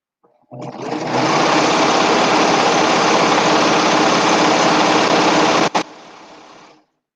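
A serger sewing machine stitches and trims fabric in one loud, steady, fast mechanical whir lasting about five seconds, with a brief click near the end before it winds down and stops.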